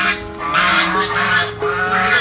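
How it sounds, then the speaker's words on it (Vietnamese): Geese honking at a farm in Vietnam, a string of loud, nasal honks overlapping close by, repeating steadily with little pause and no talking. "ừ, có ngỗng này"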